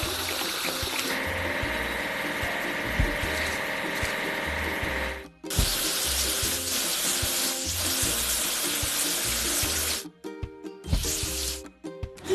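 Running water sprays and splashes steadily while toy construction vehicles are washed, a constant hiss broken by two brief pauses near the end.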